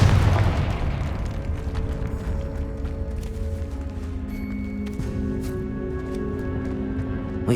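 A Confringo blasting spell explodes in Hogwarts Legacy with a heavy boom at the start that rumbles and fades, followed by a low, sustained ringing hum with faint debris ticks.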